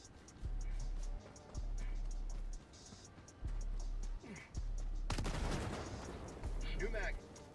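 Rapid bursts of video game gunfire from a run-and-gun shooter, several loud volleys in an uneven rhythm with brief pauses between them and a heavier blast near the end, playing under faint talk.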